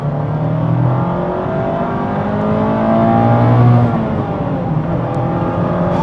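A 2025 Mazda MX-5 Miata Grand Touring pulls hard in second gear, its engine note climbing steadily into a louder rising drone near the middle before easing off, heard close and continuous with no talking.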